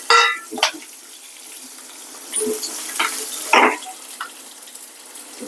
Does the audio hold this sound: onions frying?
yes